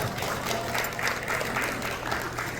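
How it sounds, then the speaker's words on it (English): Event audience applauding sponsors, volunteers and artists with a sustained round of clapping from a crowd, fairly loud and even, with a faint low murmur underneath. "So let's give everyone a big round of applause"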